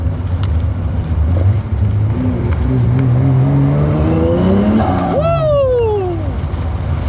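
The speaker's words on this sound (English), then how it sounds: "Just skids." Datsun 280ZX with a turbocharged L28 engine, tires squealing in a loud skid with rising and falling pitch near the end, over steady engine roar and tuned-car revving.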